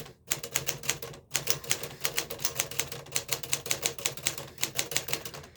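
A 1954 Smith-Corona Clipper manual typewriter with 12 CPI type on a showroom floor is typed on in quick, steady clacking keystrokes, with a couple of brief pauses, close and fairly quiet, with no voices.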